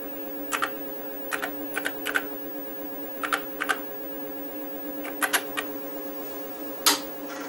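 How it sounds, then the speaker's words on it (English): Keys clatter on an IMSAI 8080 computer keyboard in short clustered bursts of sharp clicks with pauses between, set against a steady electronic hum from the machine, and no one speaks. "I'm just going to go ahead and type in MBASIC."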